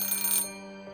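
A small black telephone in a mansion's long hall rings with a bright metallic bell burst that cuts off abruptly, leaving a fading hum, close and alone.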